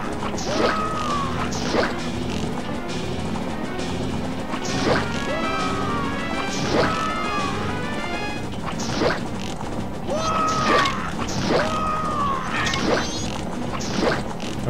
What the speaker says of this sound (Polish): Oni chcą rozbić baniaki z mlekiem.